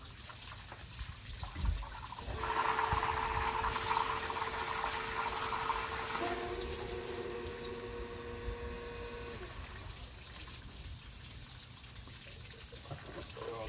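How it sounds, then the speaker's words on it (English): An Intex or Outbound above ground pool pump switches to backwash, and water rushes through a drain fitting with a steady whooshing flow and a tonal hum that shifts partway, moderately loud, with no talk. "We'll start by moving the pump valve to backwash."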